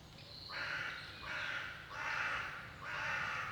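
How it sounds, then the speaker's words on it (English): Crows caw in a stretch of woodland on a winter countryside walk near Sole Street, giving four drawn-out, harsh bursts at a steady pace, moderately distant and alone. "Drowned out by the crows."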